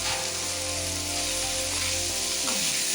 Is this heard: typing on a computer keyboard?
no